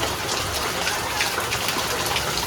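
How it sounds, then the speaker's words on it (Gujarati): Heavy monsoon rain in Surat pours down in a dense, steady hiss, drops drumming on surfaces nearby with no pause. "બહુ મસ્ત વરસાદ આવે છે."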